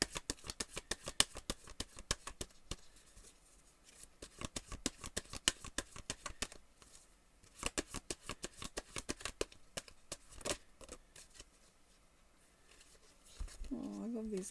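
An Archangel Michael oracle card deck being shuffled: rapid, dense riffling flicks of cards in steady bursts, close and fairly loud, with brief pauses between runs and a short voice near the end.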